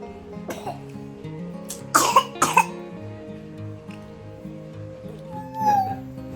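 A few sharp coughs burst out close by in a quick cluster, over soft music with a gentle repeating melody.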